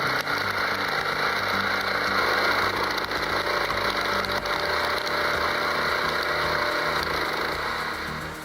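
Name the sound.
13 HP hydraulic log splitter engine crushing hardwood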